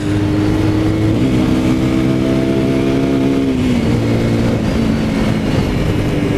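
A Dominator 250 motorcycle with a five-speed gearbox cruising in third gear, its engine droning loud and steady with a slight pitch shift partway through and wind rush around the rider.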